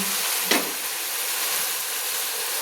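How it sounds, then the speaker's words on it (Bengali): Spice paste sizzles steadily in hot oil while it is fried for a Bengali pumpkin and fish head curry. The hiss is close and continuous, a single stir scrapes through near the start, and there is no talking. "মশলাটা সুন্দর করে তেলের সঙ্গে কষিয়ে নিচ্ছি"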